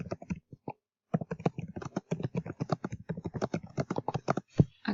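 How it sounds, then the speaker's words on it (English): Someone types a definition on a computer keyboard for a study flashcard set. Close, crisp key clicks come in quick bursts, with a short pause early on and then steady rapid typing. "Then I'll type in the definition my instructor has given me."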